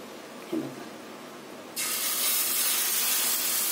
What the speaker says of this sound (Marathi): तवा गरम झाला, त्यावर आपण तेल टाकून ते पण गरम झालं आहे, त्यात आता टाकून घ्यायचं मिश्रण